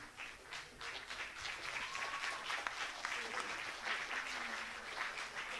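An audience at a community event in Vlissingen claps in a steady, dense round of applause, moderately distant and fairly quiet, sustained for several seconds with faint voices mixed in.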